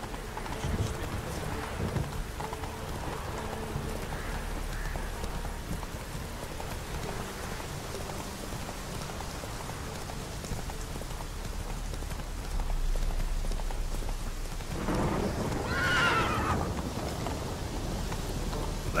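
Horse hooves clopping in steady rain in a video game, with rain hiss continuous throughout and hoofbeats under it; a brief higher cry near the end, no clear talk.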